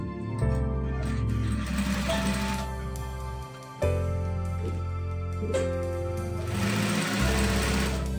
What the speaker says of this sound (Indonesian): ini kita jahit pas garis yang tadi